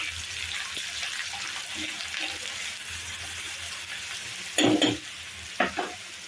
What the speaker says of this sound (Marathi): जिरे मिरची पण बारीक चिरून घेतली आणि लसूण छान तेलामध्ये परतून घ्यायचं आहे